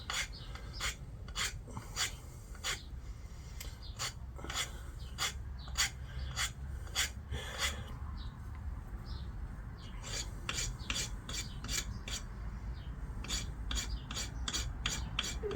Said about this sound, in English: I just do a slight chamfer on the edge so it doesn't make a squeal